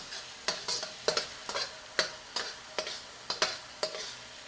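Food sautéing in oil in a pan, a low sizzle broken by about a dozen sharp, evenly spaced scraping clacks of a utensil stirring against the pan, close and alone.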